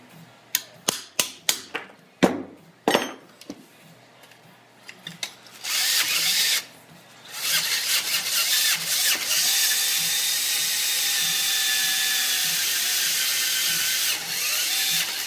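A cordless drill fires in short bursts with sharp clicks, then runs in long sustained whines as it bores a hole into soapstone, close and loud.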